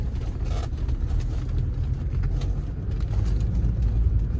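A 1982 Mercedes 300SD turbo diesel car drives on a private road with a steady, low engine drone and road rumble heard from inside, continuous and fairly loud throughout.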